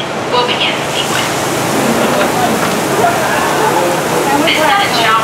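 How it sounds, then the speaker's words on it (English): On a studio backlot set, overhead water nozzles make a rain-shower special effect: a loud, steady hiss of falling water with faint voices mixed in. "This sudden shower is really just a special effect. We rigged up a series of water nozzles just above your trim."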